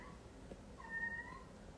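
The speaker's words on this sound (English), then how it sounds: "I gotta let this cat out. She's just gonna sit there and cry." A female cat meows a single time, drawn out and fairly faint, indoors in a quiet room with no talking.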